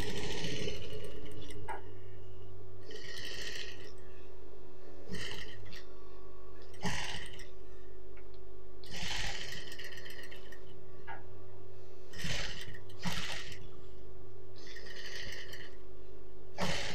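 A sewing machine stitches a churidar top along the edge of canvas, running in short bursts of steady mechanical whirring separated by pauses, close and fairly loud, with no voices.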